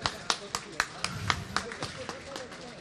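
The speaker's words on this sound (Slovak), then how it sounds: "Ešte raz veľký potlesk." A few sharp, rhythmic claps in quick succession, like a crowd applauding at a football match between Spartak Myjava and MFK Košice after a singer's performance. The claps are moderately loud and close, fading slightly, with a low murmur of voices underneath.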